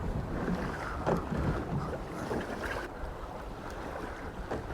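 A blustery easterly wind on a small fishing boat at sea off the UK makes a constant rough roar and buffeting, with water sloshing beneath, steady throughout with no voices.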